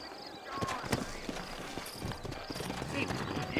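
Horse hooves clip-clop in the Western video game Red Dead Redemption, a brisk irregular run of close, sharp hoof strikes with a possible faint whinny, while a voice talks over them.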